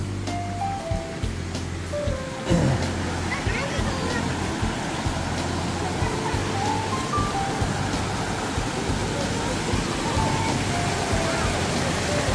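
Clear water of Neungang Valley in Jecheon, Chungbuk, pours down a rocky mountain stream from a waterfall beneath a bridge, a constant broadband rush heard up close with faint voices in the background.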